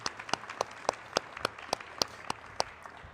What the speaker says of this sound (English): Round of applause for our students that are here today.